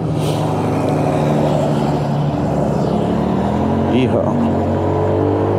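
A Honda scooter or motorcycle, either a Super Cub or a PCX150, accelerates with a steady engine drone that climbs in pitch, heard up close under wind, while a rider whoops once.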